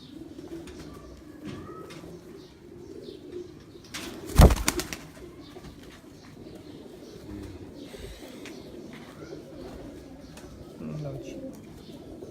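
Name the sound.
pigeons cooing on a rooftop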